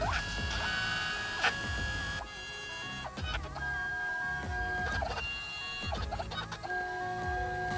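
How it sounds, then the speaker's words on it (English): Portable photo printer feeding and printing a photo, with a series of mechanical whirs, clicks and rising motor tones in repeated bursts, close and clear with no talk. "Alright, so it's printing out."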